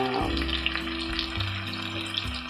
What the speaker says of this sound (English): So I'm just going to let this pan fry.